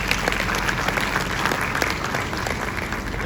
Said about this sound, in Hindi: सिंह साहब के लिए एक बार जोरदार तालियां हो जाए।